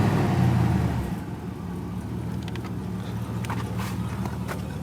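A Chevrolet Monte Carlo engine warms up in a garage, with a louder rumble at first that settles into a steady, moderate idle broken by a few light clicks and taps.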